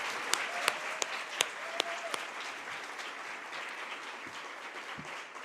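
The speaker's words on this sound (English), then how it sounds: "One more round of applause for them." An audience claps for a panel of speakers at a women's wealth event in Central Ohio, a few sharp close claps standing out over a steady crowd applause that gradually thins and fades.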